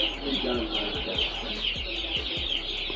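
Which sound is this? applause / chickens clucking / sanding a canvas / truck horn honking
chickens clucking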